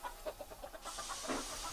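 Chickens on a farm in a children's train story, with a steam engine nearby. A handful of soft clucks come through faintly over a steady hiss of steam.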